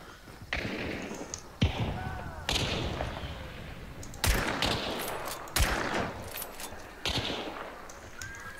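Gunfire in the video game Hunt: Showdown, a run of loud, sharp shots fired every second or so over a constant ambient rumble.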